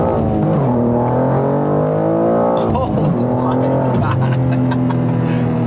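BMW M2 with a tuned S58 engine on 93 octane revving hard, its loud rising drone climbing through the gears with quick shift breaks, steady engine roar filling the cabin throughout.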